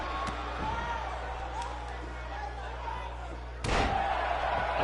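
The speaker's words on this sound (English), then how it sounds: "Elbow drop." A wrestler's elbow drop lands on the ring with one loud, sharp slam near the end, after a stretch of arena crowd noise and commentary.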